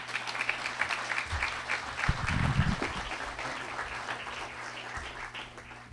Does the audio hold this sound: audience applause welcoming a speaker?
yes